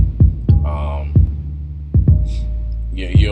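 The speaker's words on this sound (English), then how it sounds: "So what I have playing right now, this is a kick. I put a slight reverb on it" A kick drum with slight reverb, mixed for a haunted-house feel, thumps in a steady loud pattern of deep hits, with a soft hum and a few tonal accents between beats.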